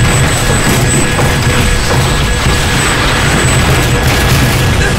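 A helicopter explodes in the video game Spec Ops: The Line, a loud, sustained roaring blast with dense rumble that fills the whole five seconds without letting up.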